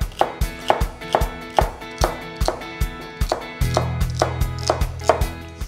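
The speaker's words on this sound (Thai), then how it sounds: "ผมก็จะหั่นเป็นแว่นนี้นะครับ" Knife slicing vegetables into rounds on a cutting board, a steady series of sharp chops close by, with a low hum joining partway through.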